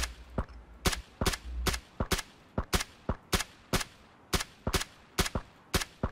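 Rapid bursts of gunfire in the video game PUBG Battlegrounds, a dozen or more sharp cracks in quick, uneven groups, loud and up close with no talk over them.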